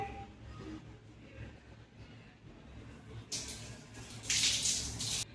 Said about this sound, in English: wet your shoes using water